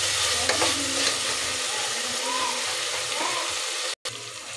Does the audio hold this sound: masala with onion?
yes